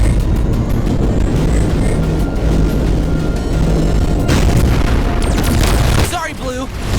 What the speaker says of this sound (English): I need to blast it with a charge shot.